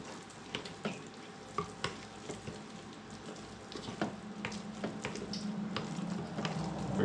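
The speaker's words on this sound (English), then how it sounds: "what I'm using is called a Danish dough whisk" Pizza dough being mixed in a bowl with a Danish dough whisk makes faint, close, irregular wet squelching and scraping strokes, quiet and repeated, with no talking.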